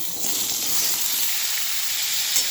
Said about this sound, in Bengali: ফোড়নটা ভাজা হয়ে গেছে দিয়ে দিচ্ছি কুমড়ো আর আলু